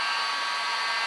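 A heat gun blows hot air onto a plastic part for a hydroponic grow tower, a steady close whirring hiss with a constant high-pitched fan tone, uninterrupted over about a second.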